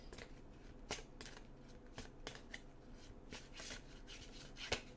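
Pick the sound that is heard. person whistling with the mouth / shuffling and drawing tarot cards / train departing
shuffling and drawing tarot cards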